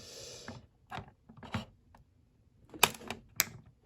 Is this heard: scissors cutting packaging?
yes